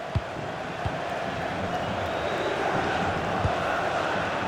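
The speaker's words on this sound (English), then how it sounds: "The crowd certainly think so. Just listen to them." Stadium crowd noise from an FC football video game simulation of Valencia versus Real Madrid in La Liga, a steady broadband roar of many voices with a few low thumps, filling the whole stretch without commentary.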